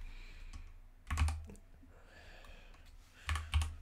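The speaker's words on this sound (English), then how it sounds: "And then type msconfig again." Quiet keyboard typing on a Windows PC, a few soft scattered clicks with two brief louder bursts of keystrokes, close and alone without any talk.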